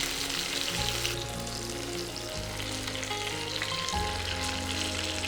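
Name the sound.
honey garlic chicken pieces sizzling in a frying pan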